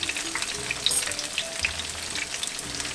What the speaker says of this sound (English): So I'm going to let these fry off